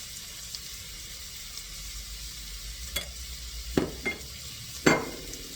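Chopped onion hits a hot pan and sizzles steadily, with a few sharp scrapes and stirs of a utensil against the pan near the end; no talking.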